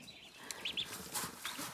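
A few faint, high peeps from ducklings, soft and brief, over a low background hum.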